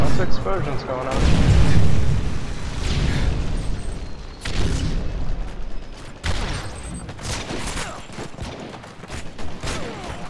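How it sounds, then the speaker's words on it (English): Booming explosions and bursts of gunfire from Call of Duty: Modern Warfare 3 multiplayer, loud and continuous, with a voice talking over the action. "Explosions going on."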